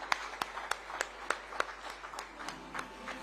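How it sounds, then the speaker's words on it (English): Clapping rings out at an Indian family business awards ceremony in a steady, even rhythm of distinct claps, moderately loud over a soft hall background. "A huge round of applause for the one and only Mr."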